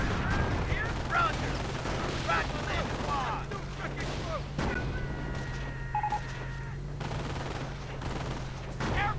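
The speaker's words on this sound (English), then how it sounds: "MG42 firing away" Rapid MG42 machine-gun bursts rattle through a busy video-game battle, layered with other gunfire and explosions, plus a few electronic tones partway through.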